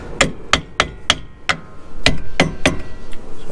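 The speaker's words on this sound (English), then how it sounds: "Just going to give mine a little bit of a tap with a hammer, get it in there." Sharp hammer taps strike an alloy brake part on a boat trailer, about eight distinct metallic knocks at an uneven pace, close and fairly loud over a faint background.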